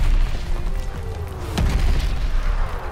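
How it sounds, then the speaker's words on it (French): An artillery shell explodes in Call of Duty Vanguard, a deep rumbling boom with a sharp burst partway through, set against ongoing low battlefield rumble. "Un obus dans la gueule."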